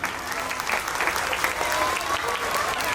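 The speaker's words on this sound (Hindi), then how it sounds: "बच्चों के लिए जोरदार तालियां।" Audience applause for a preschool children's Ramayan performance at a school, a steady, dense wash of clapping from many hands that holds evenly throughout.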